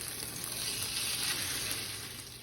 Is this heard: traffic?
no